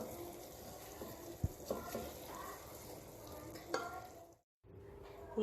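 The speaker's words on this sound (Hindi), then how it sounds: "इसे अच्छे से मिक्स कर लेंगे।" Taro and potato curry being stirred in a pan after garam masala goes in with the heat off, a soft scraping and gentle sizzle with a few sharper clinks of the spoon, close up and steady, briefly dropping to silence near the end.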